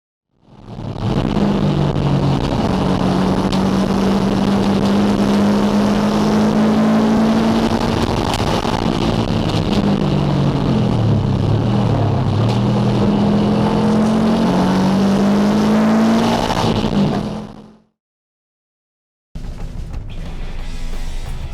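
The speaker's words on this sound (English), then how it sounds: "Did you hear the noise this exhaust makes?" A swapped 2001 Subaru Impreza WRX engine roars loudly and close, revving up and down repeatedly with a deep rumbling exhaust, then cuts to silence before resuming briefly.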